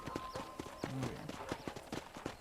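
Horse hooves clip-clop at a steady trotting rhythm in the Red Dead Redemption video game, close and even over a low ambient bed, with brief tonal game sounds and no talking.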